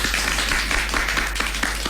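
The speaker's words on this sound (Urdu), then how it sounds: "ایک بار پھر تالیاں ہونی چاہیے" Applause from a studio audience on a children's radio program, a steady wash of many hands clapping continuously for the full moment, fairly loud and close with no voices over it.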